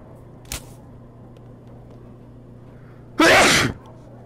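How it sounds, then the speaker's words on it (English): Indoor sneeze triggered by flour, a faint short breath or sniff followed a few seconds later by one loud, sharp sneeze close up. "the flour just made me sneeze"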